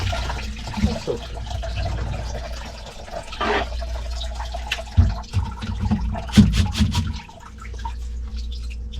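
Vinegar poured into a clogged, backed-up kitchen sink drain, with intermittent splashing, dripping and gurgling liquid sounds, some louder pours toward the middle, and faint background noise.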